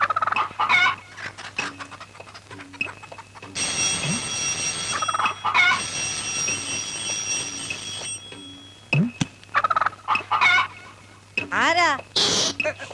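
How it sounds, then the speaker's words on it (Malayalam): A chicken clucks and squawks in short bursts close by, mixed with people talking in a comedy scene and a stretch of background music. "ഓ കോഴിയാണല്ലേ?"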